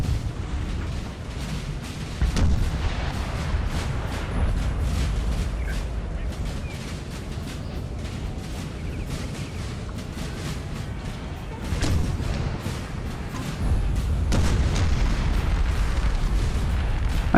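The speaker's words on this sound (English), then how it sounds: "you can't stand here with so much artillery" Booming artillery fire in the Napoleon Total War video game during a 3v3 battle, repeated distant-sounding cannon blasts over a constant low rumble of battle, with people talking throughout.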